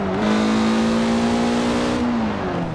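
A Mazda driven fast along narrow roads in the racing game Forza Horizon 4 gives a loud, close engine note that holds steady, then drops as the gear changes, with no talk.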